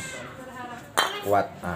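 Two well-fired bricks are knocked together, giving a couple of sharp, ringing, metallic clinks close by, mixed with someone speaking briefly.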